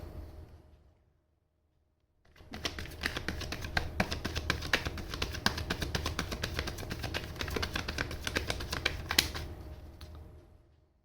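Tarot cards being shuffled, a rapid, steady run of close, crisp riffling taps lasting about eight seconds, starting after a short silence and fading out at the end.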